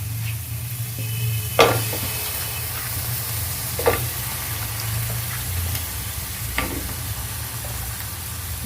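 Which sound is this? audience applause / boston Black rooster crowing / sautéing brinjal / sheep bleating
sautéing brinjal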